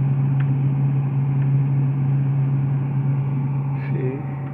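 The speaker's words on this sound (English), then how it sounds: "fan is working but no sound" Hisense no-frost fridge freezer fan running, a steady close-up hum with a low tonal drone and a few faint clicks, no voices.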